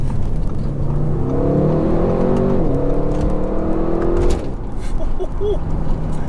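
An Audi RS6's 600-horsepower twin-turbo V8 revs loudly, the pitch climbing and dropping as the throttle is blipped, with a steady rumble underneath.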